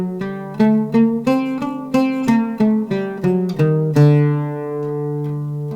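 A full Hijaz maqam played on oud, a Hijaz jins joined to a Nahawand: roughly a dozen plucked notes climb through an octave at an even pace before a final low note rings out and decays, solo instrument, no speech.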